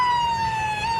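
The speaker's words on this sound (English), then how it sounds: "sirens going." Fire department vehicle siren at a Christmas parade in Wildwood, a loud close wailing tone held steady, with a slight pitch dip near the end.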